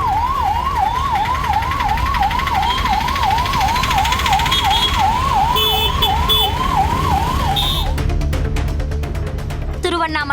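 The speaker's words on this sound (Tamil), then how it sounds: "ஏராளமான வாகனங்கள் வந்ததால் 108 ஆம்புலன்ஸ் கூட போக்குவரத்து நெரிசலில் சிக்கும் நிலை ஏற்பட்டது." A 108 ambulance siren wails in a rapid rising-and-falling pattern while stuck in a traffic jam, loud and continuous over a dense rumble of vehicles and horns, then cuts off as other traffic noise takes over.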